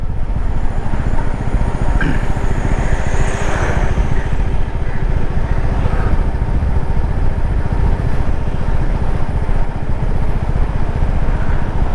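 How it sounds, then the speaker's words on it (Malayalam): A Royal Enfield Meteor motorcycle with about 28,000 km on its J-series engine runs close and loud, a steady, even engine drone with a dense low-end rumble that holds throughout, with no talking. "അപ്പോൾ റീഫൈൻഡ് എൻജിൻ എന്നുള്ളത് ഇതാണ്. റീഫൈൻഡ് എൻജിൻ നല്ല സ്മൂത്ത് എൻജിനാണ് കേട്ടോ."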